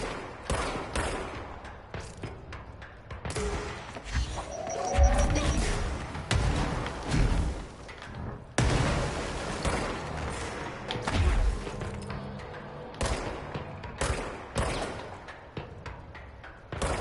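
Gunshots fired in the action game Control, a rapid series of sharp loud cracks and bursts with thuds and mechanical clatter between them, coming in uneven clusters throughout.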